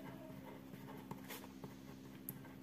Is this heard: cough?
no